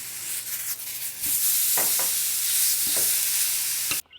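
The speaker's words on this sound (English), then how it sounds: "got my pan hot right here. In goes the fish." Steady crackling sizzle of carp searing in a hot pan, with a few soft clinks and scrapes, continuous until it cuts off abruptly near the end.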